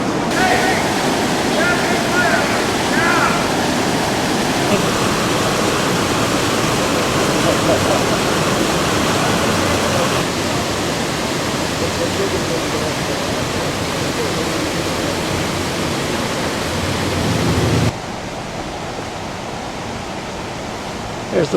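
Floodwater rushes steadily past houses in a New Hampshire town flood, a loud continuous roar like a stream or waterfall that fills the whole stretch and drops in level near the end.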